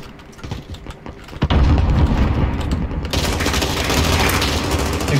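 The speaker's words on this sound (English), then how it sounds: "Throwing grenade." Grenade exploding in Call of Duty Warzone, a sudden heavy boom followed by sustained rumbling blast noise, with scattered clicks beforehand.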